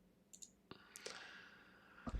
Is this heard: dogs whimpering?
no